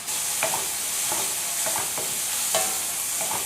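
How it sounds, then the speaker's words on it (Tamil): Onions and tomatoes sautéing in a pan for a South Indian eggplant thokku, with a steady sizzle of frying under repeated scraping stirs of a spoon, close and alone. "இந்த தொக்குக்கு வெங்காயமும் தக்காளியும் நல்லா வதங்கணும்."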